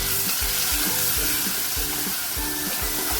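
Crushed shallots sautéing in oil for a Kerala fish curry, a steady close sizzle with rhythmic low knocks of stirring throughout, no voices.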